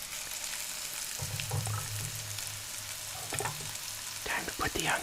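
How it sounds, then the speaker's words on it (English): Red peppers frying in a pan for a pepper and egg breakfast sandwich, a steady close sizzle with stirring scrapes running throughout, no talking. "peppers in first because they take longer to cook than the onions"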